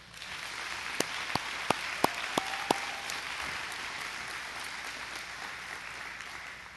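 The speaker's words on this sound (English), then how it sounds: "Give those two a round of applause." Applause from the crowd at a 2020 Louisiana high school commencement ceremony, a steady wash of clapping with a few sharper individual claps standing out near the start, sustained throughout at moderate loudness.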